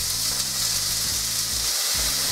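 Two diced onions frying in a splash of oil in a large pan, giving a steady, close, continuous sizzle and hiss with no voices.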